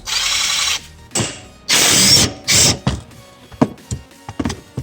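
Several loud, close bursts of ratcheting from a 12mm socket wrench loosening the radiator bolts on a Honda Foreman Rubicon ATV, with short clicking runs separated by pauses and lighter metallic taps at the end.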